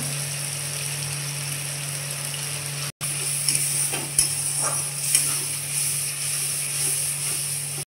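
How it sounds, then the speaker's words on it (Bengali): Steady sizzling of spices with salt and turmeric powder frying in a pan, a dense crackling hiss with occasional stirring clicks and a brief cut near the start. "মশলা ভাজা হয়ে গেছে"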